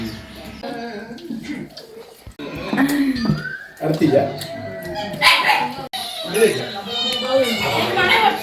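A dog barks and yips in short bursts amid lively voices and children's chatter, close and fairly loud.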